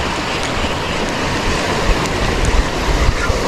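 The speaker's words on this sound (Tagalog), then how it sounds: "Lumakas pa lalo yung hangin mga master." Strong wind roars over crashing ocean waves, a loud, continuous rush of surf and gusts with no voices.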